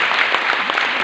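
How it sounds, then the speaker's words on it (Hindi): Loud, dense audience applause fills the whole stretch, a steady wash of many hands clapping close by with no voices on top. "उस व्यक्ति के लिए एक बार जोरदार तालियां होनी चाहिए।"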